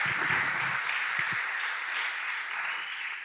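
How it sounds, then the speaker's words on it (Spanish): A church congregation breaks into sustained applause during a sermon, a steady, full roar of clapping with a few low voice bursts early on. "Dale ese aplauso bien fuerte al que va a traer la victoria sobre tu vida"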